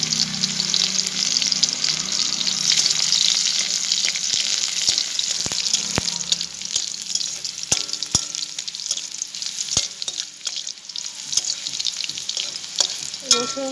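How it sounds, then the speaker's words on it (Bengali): Garlic frying in oil with a dried red chilli, a close, loud, continuous sizzle with crackling and occasional sharp clicks of a utensil against the pan. "রসুনটা একটু ভাজা ভাজা করে নিতে হবে"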